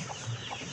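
A couple of soft, short clucks from chickens, faint and close, over a quiet background.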